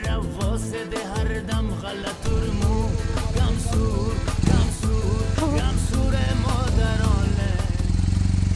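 Motorcycles on the Pamir Highway, an engine sound that starts choppy and then settles into a steady, loud, continuous rumble close by, with a voice faintly underneath.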